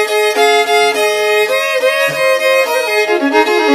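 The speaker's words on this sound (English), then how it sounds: "This instrument is called, can anybody tell me? Violin!" Bowed violin notes played solo in a sustained, tuneful phrase, loud and close with rich harmonics and smooth note changes throughout, demonstrated in a folk fiddle style.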